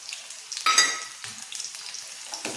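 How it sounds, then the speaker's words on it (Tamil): Whole dried chillies and crushed garlic fry in hot oil for a tomato pickle, giving bursts of sharp crackling sizzle and a brief stir, fairly faint and close, with no speech. "கொஞ்ச நேரம் வதக்கி விட்டுக்குவோம் அந்த எண்ணெயில்"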